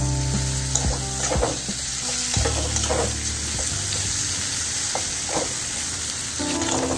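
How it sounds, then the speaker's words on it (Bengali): Taro stolons frying in oil with black cumin tempering, a close, continuous sizzle broken by repeated scraping strokes of a spatula stirring the pan, over a steady background hum. "দিয়ে এবার লতিগুলো দিয়ে একটু ভাজা ভাজা করবো।"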